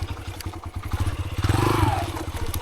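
A motorcycle on a solo trail ride toward Esbol Falls in Antipolo, Rizal putters with a close, throbbing engine beat, while clatter and scraping from the rough trail ride along with it.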